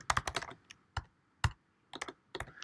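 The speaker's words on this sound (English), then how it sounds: "if I could type" Rapid keystrokes on a computer keyboard, a quick burst of clicks followed by a few isolated taps and short clusters, close and clear with no talking.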